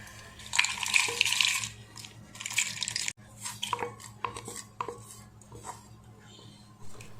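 Roasted spices tipped into a stone mortar for an amla pickle, a burst of rattling and clatter followed by scattered knocks and taps, fairly close, no voices.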